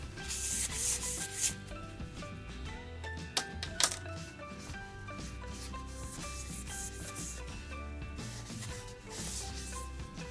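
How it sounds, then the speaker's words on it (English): Antique wax rubbed by hand with a napkin over a painted wooden Independence Day sign, a steady close scrubbing and rustling texture throughout with a few sharper taps, no talk. "Let me just do it with my napkin instead."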